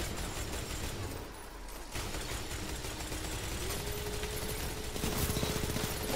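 Sweet Business exotic auto rifle in Destiny 2 Crucible fires in a long, rapid, continuous stream of shots at moderate loudness, with game background noise and no talking.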